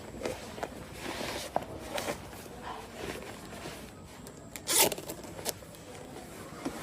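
A diver peeling off dry suit layers, with scattered rustling, scraping and zipper pulls, including one sharp louder zip near the end, fairly close and quiet.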